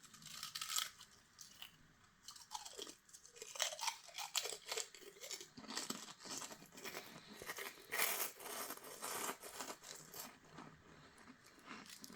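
Loud, close crunching and chewing on assorted random objects, with dense irregular crackling bites and crinkly tearing textures running continuously throughout, no talking.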